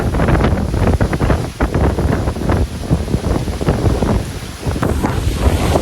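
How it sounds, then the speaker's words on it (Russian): Strong hurricane wind during a sandstorm in Lusail, roaring and buffeting loudly against the microphone in a continuous, gusty rush with no talk. "Нереальный ветер, просто ураган."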